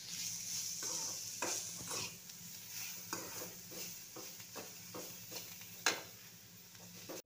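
A spoon stirring a bitter gourd mixture in a pan, soft repeated scrapes and taps over a quiet, steady sizzle, fairly faint and close, with no voices.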